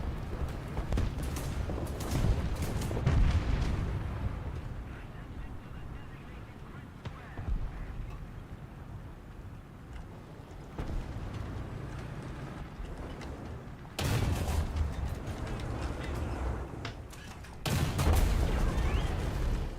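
Rockets firing and exploding in a tank video game, continuous loud rumbling barrages and blasts that swell and cut in abruptly across the scene, with no voices over them.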